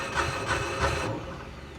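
A Mahindra Alfa Plus CNG three-wheeler's engine cranks and runs with a steady, rough mid-pitched rumble, loud and close, with a few rhythmic pulses before it settles slightly quieter.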